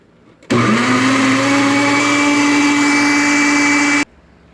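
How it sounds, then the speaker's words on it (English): A countertop blender on its liquefy setting whirs at full power, pureeing cucumber for juice with a loud, steady, high-pitched roar for about three and a half seconds, then cuts off abruptly. "on my blender I have a liquefied option, so I'm going to use that option to blend the cucumber"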